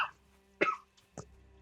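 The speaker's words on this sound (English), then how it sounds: "Sorry for coughing." A few sharp coughs ring out, close and distinct, separated by brief pauses in an otherwise quiet space.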